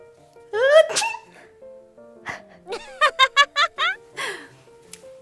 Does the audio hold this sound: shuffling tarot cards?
no